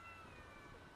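A house cat gives a faint, drawn-out meow, thin and distant, heard alone with no talk over it.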